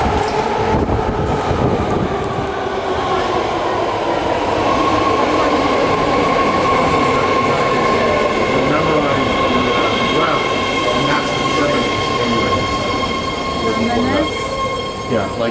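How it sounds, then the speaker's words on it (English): A BART yellow line subway train riding from Powell Street toward San Bruno at night: steady loud rumble of wheels on track, with high thin squeals rising above it and faint voices in the car. "This is a yellow line train to San Francisco International Airport."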